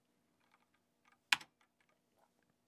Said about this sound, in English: We do this by navigating with the arrow keys, pressing Enter to enter into submenus,